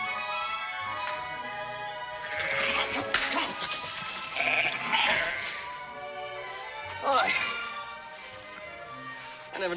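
A couple dozen sheep bleat in a Western setting, several wavering, quavering calls overlapping near and loud in clustered bursts, with a voice talking over them.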